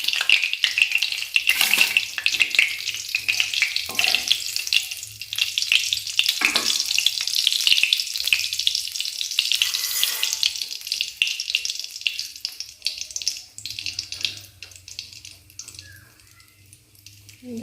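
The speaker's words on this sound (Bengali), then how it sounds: "দেখো এগুলো ভাজা ভাজা হয়েই গেছে সুন্দর করে" Whole cardamom and nutmeg powder fry in hot oil, giving a loud, steady crackling sizzle that runs nearly the whole time and softens slightly near the end.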